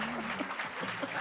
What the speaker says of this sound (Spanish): Un aplauso para Ernesto Sevilla, el paciente.